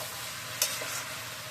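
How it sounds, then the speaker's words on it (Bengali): Fried fish head curry being mixed in a pan after the lid comes off, a short burst of scraping and stirring over a steady soft sizzle, close and fairly quiet. "এবার ঢাকাটা তুলে সব কিছু একসাথে মিশিয়ে দেবো।"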